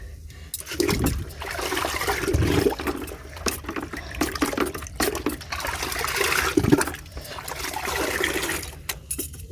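Water sloshes and splashes in a container of about six or seven litres as fertilizer is stirred in, a steady close liquid churning with a few louder swishes.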